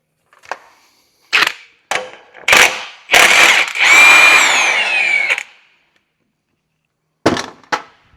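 A ratchet working on the top mount nut of a VW Transporter, with bursts of quick clicking and sharp mechanical rattles, one longer whirring stretch in the middle, then two final clicks after a pause, loud and close.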